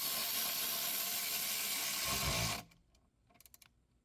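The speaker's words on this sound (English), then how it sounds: "tighten it all the way down and drive the last bolt in" A power driver spinning a 13mm socket to tighten bolts on the battery hold-down bar of a 2015-2019 Land Rover Discovery Sport: a loud continuous whir that cuts off abruptly, followed by a few faint clicks and taps.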